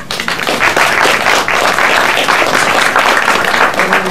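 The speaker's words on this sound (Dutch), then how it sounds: "ik vraag aan jullie om effies alle gaar voor jullie te klappen" An audience claps steadily and densely throughout, a full round of applause with no pause, at a West Frisian Christmas story reading.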